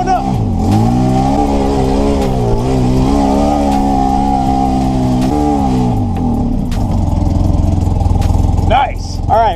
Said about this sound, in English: I love driving these buggies.